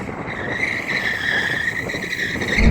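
A rear-wheel-drive BMW, stability control off, has its tyres warmed with a steady, loud tyre squeal that holds a sustained pitch for the whole stretch under a continuous engine roar, with no talk.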